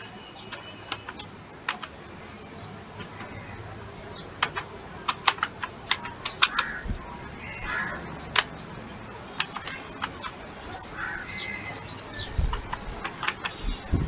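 Typing on a computer keyboard while entering text into an Excel spreadsheet, irregular bursts of close, crisp key clicks with short pauses between them.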